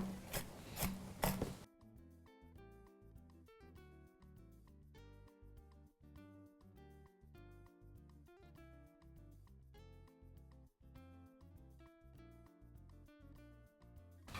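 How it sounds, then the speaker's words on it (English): Steady rhythmic knife chops on a cutting board through unsalted dry roasted peanuts, crisp evenly spaced taps close by, after a brief louder rustle at the start. "I'm gonna cut them up with a knife before I throw them on"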